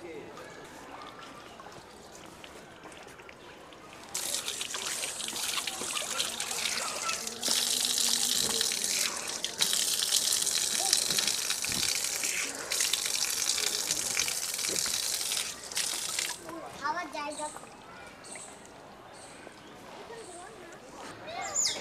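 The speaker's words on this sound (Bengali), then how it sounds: "চিড়িয়াখানার ভিতরে এরকম মাঝে মধ্যেই অনেকগুলো পানির ট্যাপ তৈরি করে দেওয়া হয়েছে" Water gushes from a public tap inside the national zoo in Bangladesh. A steady, hissing splash runs for several seconds and stops and restarts in places, with muffled voices and outdoor background noise around it.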